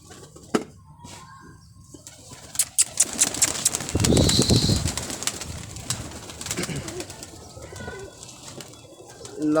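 Pigeons at a rooftop pigeon loft coo softly while a burst of loud wing flapping erupts midway as birds take off, with scattered clatter around them and no talk.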